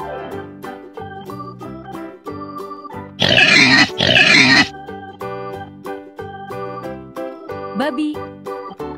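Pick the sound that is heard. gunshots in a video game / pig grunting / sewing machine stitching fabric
pig grunting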